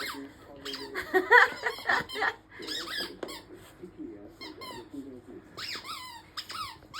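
Bursts of sharp, high squeaks come from a dog chomping on its new squeaky ball toy indoors at night, close and irregular, mixed with nearby human laughter and vocal sounds.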